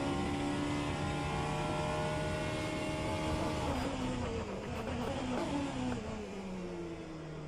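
Engine note of a Vanwall Hypercar in the rFactor 2 racing sim at Sebring: a loud, steady, harmonic drone that holds, then sweeps down in pitch under deceleration and climbs again.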